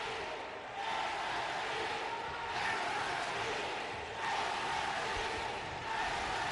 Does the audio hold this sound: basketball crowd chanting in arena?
yes